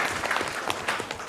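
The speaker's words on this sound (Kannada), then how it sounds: "ಬರಲಿ ಚಪ್ಪಾಳೆ ಆಡಿಯನ್ಸ್." Audience clapping at a college quiz competition in Hassan, a short burst of steady applause from a crowd, moderately loud and without speech.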